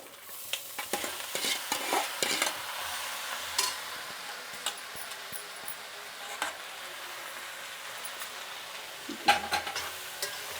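Vegetables fry with curry leaves in a pan under a soft sizzle, while a spatula stirs in bursts of clattering scrapes that pause midway and return near the end.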